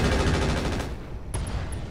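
Mech weapons in the Roguetech BattleTech game unleash a brief, loud, rapid volley of fire that stops within a second, followed by a short ringing tail and a few faint high pings.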